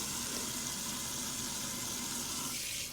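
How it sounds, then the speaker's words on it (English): Hot tap water runs steadily into a sink while oily dishes are washed, a continuous broadband rush at moderate, even loudness with no voices. "so I'm using the hot water"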